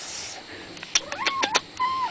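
A cat gives a few short, close meows and squeaky mews over a faint background hiss, the calls bunched in the second half.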